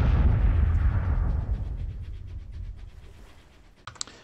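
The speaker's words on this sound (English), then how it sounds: "His flotilla is already bombarding the fort." Artillery bombardment of a fort in the Civil War strategy game Grand Tactician: a loud, rumbling barrage of booms that gradually fades, followed by a sharp single blast near the end.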